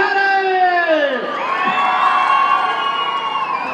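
Loud rodeo crowd at a jaripeo during an annual town fair, shouting and whooping with shrill whistles and cheering rising together in one sustained, dense roar close by.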